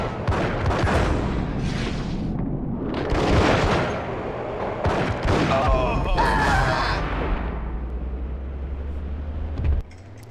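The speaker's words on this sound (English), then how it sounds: "Fucking shot those guys up like it was my fucking day job." Rapid gunfire rips through a Max Payne shootout as enemies are gunned down, dense loud bursts and booms packed together over game noise, with a low rumble lingering before a sudden cutoff near the end.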